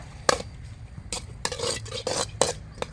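Rabbit pepper curry is stirred in a pan with a spoon, giving several close, sharp scraping strokes against the metal at an uneven pace, with no talking.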